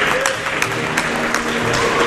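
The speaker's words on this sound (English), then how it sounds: "we'll get the rounds of applause" A crowd applauds at an ice hockey grand final trophy presentation in Tasmania, with steady, fairly loud clapping throughout and some voices mixed in.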